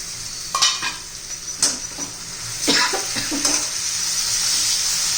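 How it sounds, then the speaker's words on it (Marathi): Squeezed amaranth greens are dropped into a hot pan and stirred, giving several sharp clatters and scrapes over a rising sizzle that settles into steady frying. "आता यातलं पाणी पिळून काढलेली भाजी घालून घ्यायची"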